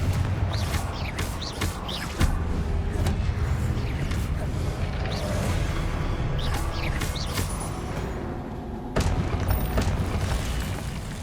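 Incendio and Confringo spell blasts in the Hogwarts Legacy video game on PS5, a run of booming fire explosions and crackling impacts over a dense rumbling combat bed, with a heavy burst near the start and another late.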